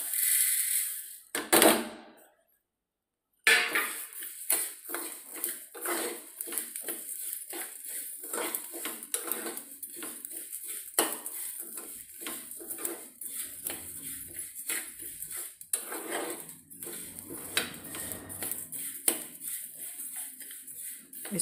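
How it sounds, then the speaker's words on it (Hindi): Spices being stirred and roasted in a pan on a low gas flame for jackfruit pickle: a quiet run of scraping, light clinks and ticks of a spoon against metal, close and irregular. "अब इसके अंदर हम और मसालों को भी भून देंगे।"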